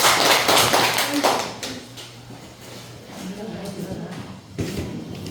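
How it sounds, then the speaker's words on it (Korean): Church congregation applauding scholarship students during a service, a burst of clapping that fades out over the first seconds, followed by a voice speaking and scattered room noise. "장학금 받은 학생들에게 다시 한번 박수 보내주시기"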